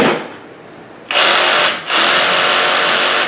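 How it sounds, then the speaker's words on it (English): A DeWalt 20V MAX battery-powered variable speed reciprocating saw starts after a second of quiet and runs loud and close, with a brief dip in speed before it revs back up steadily. "they call this the variable speed reciprocating saw, chop saw, sawzall, right?"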